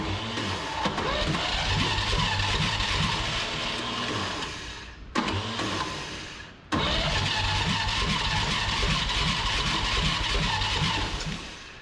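A big block engine in a 1959 Chevrolet dump truck, abandoned for 17 years and running on a poorly working old carburetor, roars loudly and steadily. It stumbles and cuts out briefly twice before catching again, with no talking.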